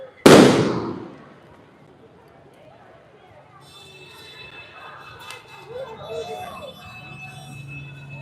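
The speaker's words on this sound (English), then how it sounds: "the police are now agitating, setting off flashbangs" A single loud blast of a police flashbang at a street protest against immigration enforcement in Los Angeles, a sharp close burst that quickly decays, followed by a murmur of crowd noise and a faint high whine.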